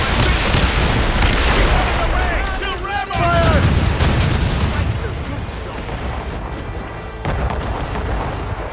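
A sailing warship's cannons fire a broadside in the Assassin's Creed Rogue naval combat, loud booming blasts and rumbling gunfire rolling across the opening seconds, layered with shouting crew voices and game sound.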